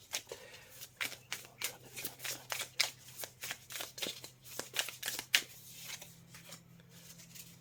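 Tarot cards shuffled in quick riffling bursts and laid down on a table, a rapid series of sharp papery flicks and slaps, close and fairly soft, with a faint steady hum underneath.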